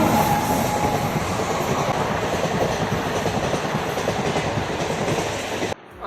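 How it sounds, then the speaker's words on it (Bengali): A train rolls past the Balichak level crossing, loud and close, with a continuous rumble and rhythmic clickety-clack of wheels over the rails for several seconds before it fades away. "এই ট্রেন আসছে গাইস, সবাই রাস্তা পেরোচ্ছে তবুও।"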